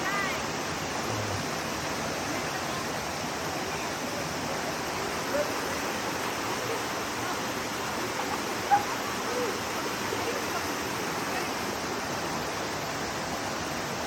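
Hot water flowing at Baslay hot spring, a steady broadband rush of running water that stays even and unbroken throughout, fairly close with no other sounds standing out.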